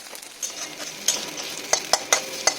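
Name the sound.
sattu (chhatu) frying in a pan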